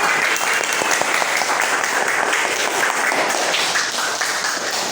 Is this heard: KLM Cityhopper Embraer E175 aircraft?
no